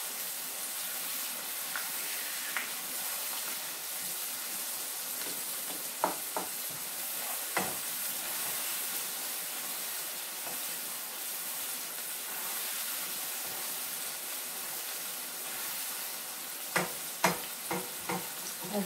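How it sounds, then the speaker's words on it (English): Ackee and saltfish vegetables stir-fried in a pan give a steady, fairly faint sizzle and hiss, broken by a few sharp scrapes and clinks of a utensil stirring, with a cluster of utensil strikes near the end. "So I'm just stir frying."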